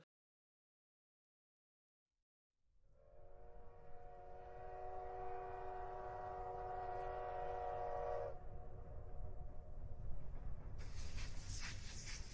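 A train rolls in with a loud, sustained horn blast lasting several seconds over a steady rumble, then the rumble of passing cars continues alone with rising hiss.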